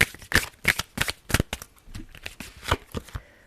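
Tarot cards being shuffled by hand, a quick series of crisp riffling flutters in an irregular rhythm, close and clear with no talking.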